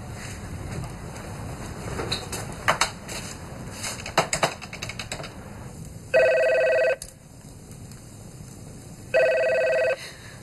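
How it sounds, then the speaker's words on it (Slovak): A telephone rings indoors in two loud, steady electronic bursts of about a second each, with a pause between, after a stretch of scattered clicks and knocks. "Nezdvihnete telefón?"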